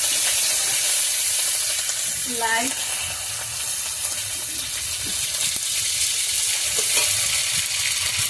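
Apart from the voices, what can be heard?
fish tails frying in pan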